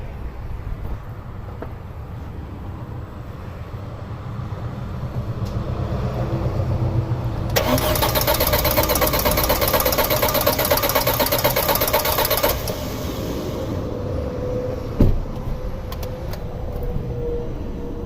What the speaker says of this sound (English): So I'm gonna go crank it and we'll see what happens.